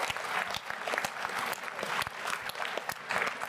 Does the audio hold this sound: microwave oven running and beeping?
no